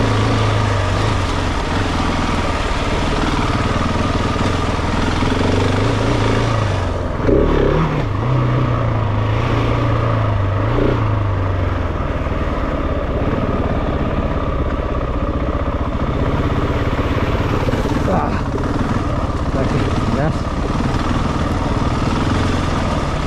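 A 2023 Gas Gas 700ES dirt bike engine drones steadily and loudly while riding a rough trail, rising and falling with throttle as it works over rocks, with wind and knocks but no talking.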